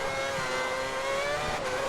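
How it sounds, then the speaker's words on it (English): A Formula 1 car engine in the F1 2010 racing game screams at high, steady revs with a continuous loud whine, heard alone and close for the whole stretch. "there's a car coming out of the pits"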